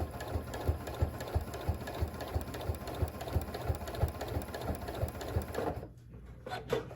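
A sewing machine stitches a charm pack quilt in a steady, rapid mechanical chatter, running continuously up close before stopping near the end with a few faint clicks of the presser foot being handled.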